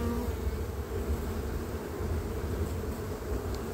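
Honeybees buzz steadily around open hive frames while a queen is placed on them in autumn, a dense continuous hum close by and fairly soft, with no voices.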